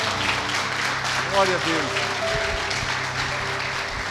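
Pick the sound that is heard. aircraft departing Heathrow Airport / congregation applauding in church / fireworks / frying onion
congregation applauding in church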